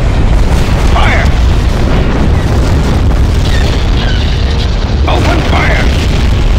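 Rebel starship weapons open fire in a Star Wars space strategy game, a dense, loud, continuous roar of booming blasts with high zapping bursts layered over it throughout.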